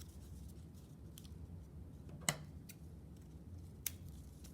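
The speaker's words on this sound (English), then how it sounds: "you can take the scissors and cut a tiny little incision" Scissors snip a tiny incision in paper, giving two brief, sharp clicks about a second and a half apart against a quiet room.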